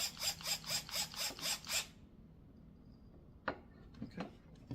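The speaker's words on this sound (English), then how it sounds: "we're just going to give that a quick little tighten down" A screw being tightened on a natural wood kids table clicks through a ratchet in six quick, loud, even strokes. It then goes quiet apart from a few light knocks from handling the parts.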